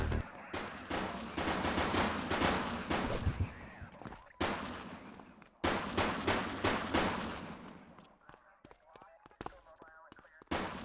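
Heavy automatic gunfire comes in loud, sustained bursts in The Precinct on PS5, broken by short pauses, then tapering into scattered shots as game voices come through briefly between the volleys.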